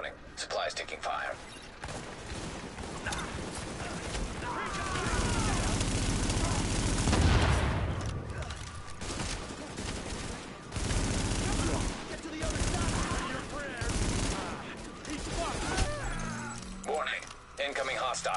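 Sustained bursts of automatic gunfire and single shots from The Division, a third-person shooter, in a street firefight, with voices talking over the shooting throughout.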